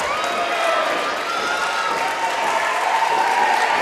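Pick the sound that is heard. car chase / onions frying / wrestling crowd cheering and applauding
wrestling crowd cheering and applauding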